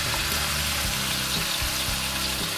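Onion and egg stir-fry in a pan, cooked without oil, giving a loud continuous sizzle with a few low scraping stirs at intervals, close up and with no voices.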